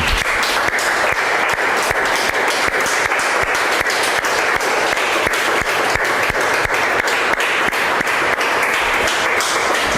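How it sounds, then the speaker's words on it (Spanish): A church congregation applauds for the Lord, a loud, dense, sustained burst of many hands clapping evenly and close throughout, with no speech. "Dale ahí un fuerte aplauso al Señor"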